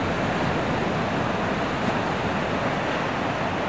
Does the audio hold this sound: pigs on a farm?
no